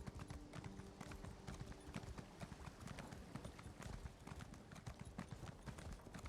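Horse mount galloping in the video game Elder Scrolls Online, a fast, steady run of hoof clip-clops throughout, fairly quiet and continuous with no talk.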